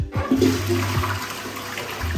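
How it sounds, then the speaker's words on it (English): A household toilet flushes during bathroom cleaning, giving a loud rushing gush of water that swirls and drains. The sound is close and clear, with no voices. "I'm going to give inside the toilet a little scrub because I had Harpic and stuff working away down at the bottom, and one more flush."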